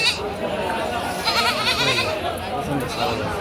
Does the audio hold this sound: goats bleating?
yes